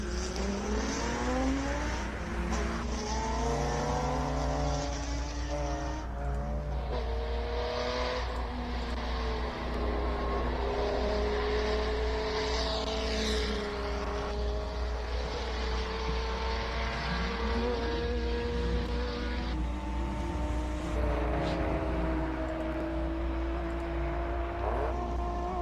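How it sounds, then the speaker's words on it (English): Classic Datsun race car at the Simola Hillclimb, its engine revving hard and climbing through the gears, loud and continuous with changing pitch as it works up the course. "Just listen to this Datsun."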